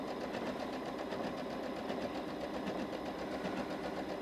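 A domestic sewing machine runs steadily with a blind stitch foot along a clean-finished folded hem, a continuous close mechanical whir with a fine rapid stitching rhythm and no voices.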